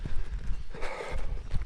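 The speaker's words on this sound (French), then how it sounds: "Un troupeau avec des chevaux et des vaches." A mountain herd of horses and cows walking on a trail, with close, irregular clip-clop of hooves and shuffling steps in quick succession.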